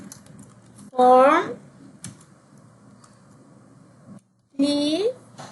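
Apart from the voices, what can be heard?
typing on a computer keyboard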